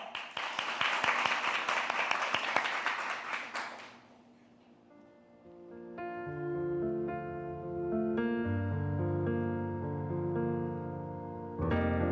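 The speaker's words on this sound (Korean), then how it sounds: "여러분 큰 박수로 만나보시죠." A crowd claps and applauds for about four seconds to welcome a performer at an Incheon education office talk-show event, then the applause fades and melodic music begins.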